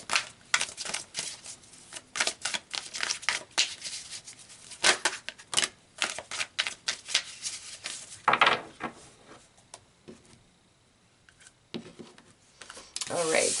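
Tarot cards are shuffled and pulled by hand in irregular bursts of riffling, rubbing and soft slapping, close up, with pauses between handfuls and occasional speech around them.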